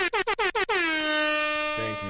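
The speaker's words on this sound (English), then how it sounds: "The air horns are ready." A loud air horn sounds five short blasts in quick succession, then one long sustained blare, followed by a couple of lower honks.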